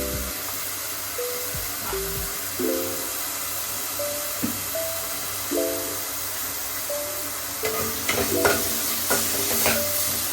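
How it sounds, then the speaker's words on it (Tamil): Curry base with salt being sautéed in a pan for mutton curry, a steady sizzle and frying hiss throughout with repeated scraping stirs of a spatula, growing busier toward the end; no talking. "இந்த பச்சை வாசனை போகிற அளவுக்கு நல்லா வதக்கி"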